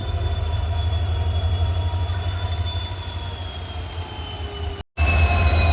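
A diesel train hauled by a WDP4D locomotive rumbles past at a station, with a steady low drone and high wheel squeal running throughout and a brief dropout near the end.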